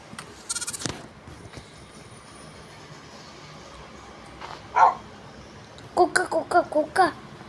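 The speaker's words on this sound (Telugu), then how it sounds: "కుక్క." A dog barks in the video game Minecraft: a short burst of yaps near the start, one lone bark midway, then five quick, evenly spaced barks close together at the end, over a quiet background.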